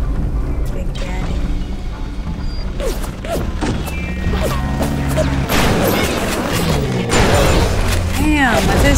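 Explosions and gunfire in the video game BioShock, heard as loud dense blasts and crashes with a rumbling low end, overlapping game sounds and background voices throughout.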